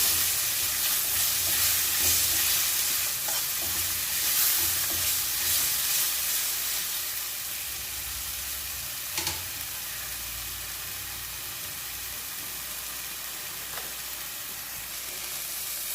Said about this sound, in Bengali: পরিমাণ মতো হলুদ গুঁড়ো দিয়েছি পরিমাণ মতো নুন মশলাটা একটু নেড়ে নিচ্ছি